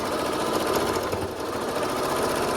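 A sewing machine runs without a break, stitching forward and back in a close, steady, loud mechanical whir.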